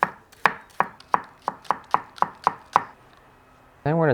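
A Sakai Takayuki gyuto knife chops green onions on a board with about ten crisp, evenly spaced close knocks, then a pause before a brief voice.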